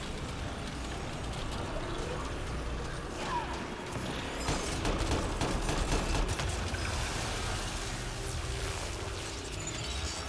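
Grenade blasts and bursts of gunfire in the video game Mass Effect Andromeda, a dense, crackling battle din of repeated shots and booms that swells in the middle and keeps going throughout.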